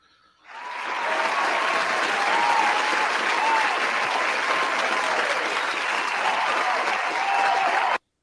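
Loud, sustained applause from an audience honoring Zell starts abruptly, holds as a thick even roar of clapping for several seconds, then cuts off sharply.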